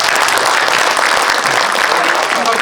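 A crowd at a gathering breaks into loud, dense applause of thanks, continuous rapid clapping filling the whole moment, close and energetic.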